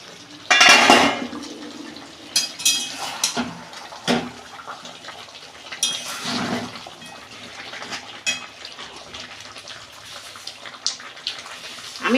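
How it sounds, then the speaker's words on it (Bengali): Lid lifted off a pot of mutton curry in a home kitchen: a sharp metallic clatter and scrape up front, followed by scattered clinks and knocks of metal cookware, close and bright, with no voice. "দেখুন বন্ধুরা, আমি ঢাকনা খুলছি।"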